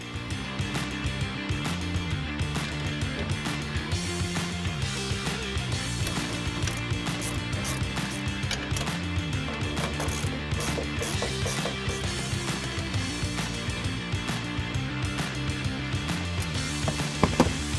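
A hand ratchet clicks in fast, repeated strokes while tightening a BAK tonneau cover rail on a Ford Ranger 5 ft bed, the rhythmic pawl chatter close and continuous over a steady background.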